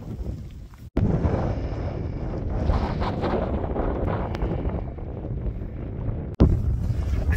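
Strong wind buffets the microphone on top of a very large hill in sunny British weather, a steady loud roar with gusty swells and two brief dropouts, no voices heard.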